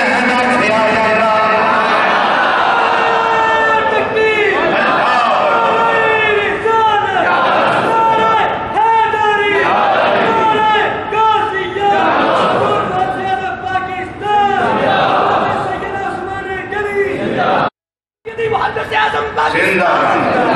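A large crowd at a religious speech shouts slogans in loud, rhythmic chanting waves, voices rising and falling together in call-and-response fashion, with one brief silent break near the end.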